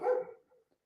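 A single short dog bark, close and fairly loud, followed by a fainter trailing yip in an otherwise quiet indoor space.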